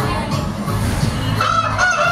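A giant chicken rooster crows in the background at a highland resort, a drawn-out call rising over steady outdoor noise and faint voices.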